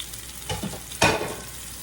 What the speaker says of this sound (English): I'm going to just leave them sitting there in the olive oil cooking.